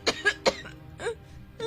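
A person coughs several times in short, rough bursts, two quick harsh coughs followed by softer throat-clearing sounds, close and with no talking.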